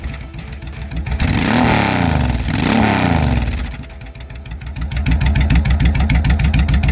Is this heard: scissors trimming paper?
no